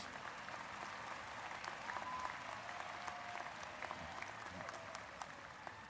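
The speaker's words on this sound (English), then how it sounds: "please applaud that, somebody" At a spring university commencement ceremony, a large audience keeps up a continuous wash of applause, even and sustained throughout, heard from a distance with sharp individual claps rising above it here and there.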